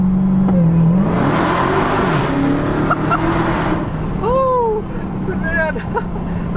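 A 2021 Dodge Charger Hellcat Redeye engine roars steadily under heavy throttle near an overpass, with a rising pitch and a voice talking over the sound.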